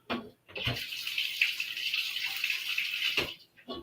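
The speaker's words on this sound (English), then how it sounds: "I'm putting a little bit of water in the bottom of the pan" Water pours into the bottom of a cooking pan for steaming, a steady splashing stream lasting about three seconds and framed by brief clunks at the start and end.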